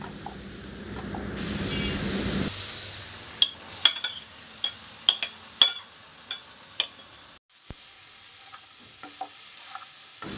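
Chopped hog plum (amra) frying in a pan: a loud initial sizzle that settles into a steady hiss, broken by a run of about eight quick, rhythmic stirring scrapes against the pan.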